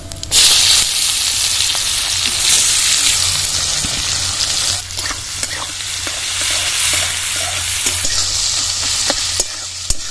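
Chopped onion in hot oil with cardamom, cinnamon, cumin and dried chilli, sizzling loudly and steadily up close, with stirring scrapes throughout and no talk.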